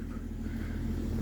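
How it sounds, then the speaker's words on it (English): Ford Mustang fitted with a new exhaust idling while it warms up, giving a quiet, steady, low rumble with no voices. "It needs to warm up some more, so here, let's let the car warm up."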